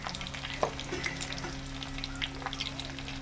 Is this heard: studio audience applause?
no